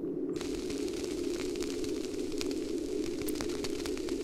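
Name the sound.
campfire crackling in video game Das Schwarze Auge Memoria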